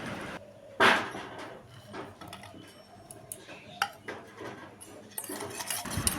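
Dry fruits being mixed into shrikhand in a bowl, with a sharp spoon knock against the bowl near the start, then scattered soft clinks and scraping at close range, no voices.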